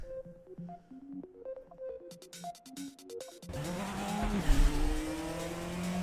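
A race car in the game RaceRoom starts up and revs, engine whine climbing through the gears with tire noise, loud and close, following a stretch of background music.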